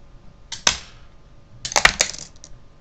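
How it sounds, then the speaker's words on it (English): A Cybertron Galaxy Force Optimus Prime toy gun fires its spring-loaded missiles, giving a sharp plastic snap followed a second later by a cluster of clicking, clattering pops, close and without talk. "it'll deploy another two launchable missiles"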